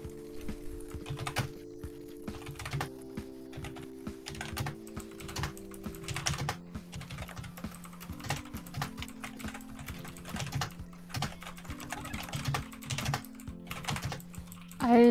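A computer keyboard clatters with rapid, irregular keystrokes over steady background music, the clicks close and crisp throughout.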